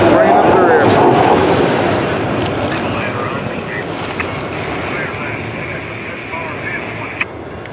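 A freight train passes with an NS SD70ACE locomotive leading and CSX power at the rear, its loud rumble and wheel noise close at first and then slowly fading under outdoor wind.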